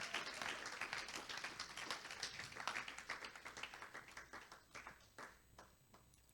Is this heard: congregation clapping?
yes